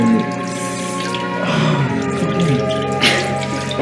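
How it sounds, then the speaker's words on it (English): Tap water running into a sink while a face is washed, a steady close splashing stream with shifting drips and gurgles, loud and continuous, without talk. "so now we're gonna wash his face"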